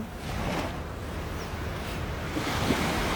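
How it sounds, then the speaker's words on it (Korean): Ocean surf washing onto a beach, a steady broadband roar of breaking waves with wind buffeting the microphone throughout, close and continuous with no voices. "이 해변가에 이렇게 파도가 이는 여기 이 여기 있잖아요"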